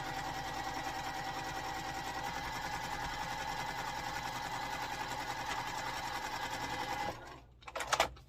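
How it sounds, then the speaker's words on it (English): Sewing machine stitching quilt block pieces for an Arizona sampler block, a fast steady mechanical whir and needle clatter running for about seven seconds before stopping with a few handling clicks. "You can sew off all the way off if you want to"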